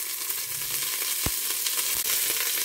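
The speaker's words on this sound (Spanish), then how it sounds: "se le pone mezclado con esos juguillos que ha dejado el pollo para sofreír la cebolla" Onion frying in oil mixed with the juices left by roast chicken, a soft steady sizzle and crackle close up, with one brief sharper pop partway through and no talking.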